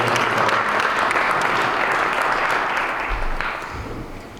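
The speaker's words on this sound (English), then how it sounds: "your applause and thanks for our fantastic speakers, Gregory and Harry, and Professor" Sustained audience applause at a chip-industry panel event in Bulgaria, a dense wash of many hands clapping that stays loud and steady, then tapers slightly toward the end.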